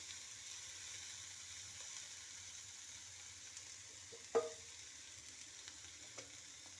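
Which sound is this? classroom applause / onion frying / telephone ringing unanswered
onion frying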